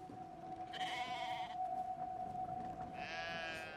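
Sheep in Brothers: A Tale of Two Sons bleat in two short, nasal cries, close and clear over a steady low game hum, with no talking.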